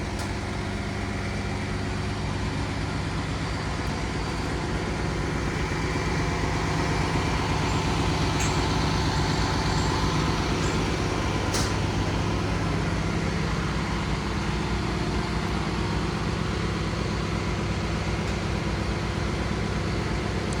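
Steady low rumble of a Disney resort minibus idling at the Riviera Resort, constant and unbroken for twenty seconds with a couple of faint brief clicks, no talking.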